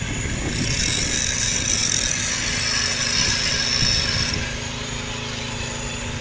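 Steady, loud grinding as workers finish a weld on a railway track, a continuous harsh whine with no break that eases slightly near the end.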